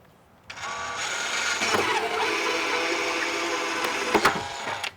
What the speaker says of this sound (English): first thing I'm going to want to do is put a hole in it. So probably got it too much of a drill